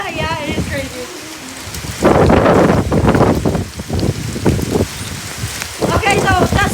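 Heavy rain with wind lashes down during a Phoenix, Arizona haboob dust storm, a dense roaring wash in loud surges, with people's voices talking at the start and end.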